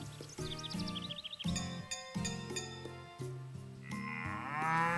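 Cows moo repeatedly in the farming video game Story of Seasons: Pioneers of Olive Town, long tonal lowing calls that overlap and follow one another closely, with light clinking game sounds in between.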